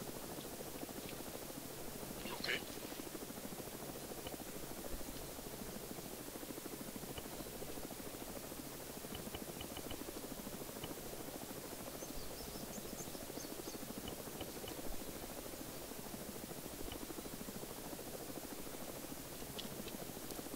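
A video game helicopter runs steadily throughout as a continuous rotor and engine drone during a daytime airbase operation, medium-loud, with no talk.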